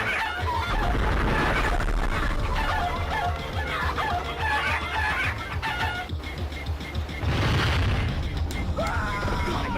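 Clucking chickens at a chicken coop in the video game Crash Twinsanity, loud and close, with repeated clucks and a rooster-like call over a dense, booming game soundtrack.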